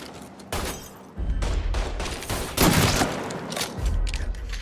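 Bursts of gunfire in Mafia III on PS4, loud and sustained, layered volleys and impacts rolling across several seconds with a dense, crackling wash.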